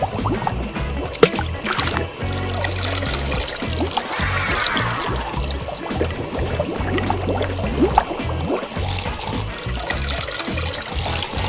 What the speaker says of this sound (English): Let's keep sucking up water.